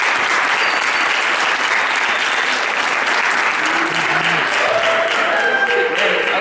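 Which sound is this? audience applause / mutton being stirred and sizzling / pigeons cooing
audience applause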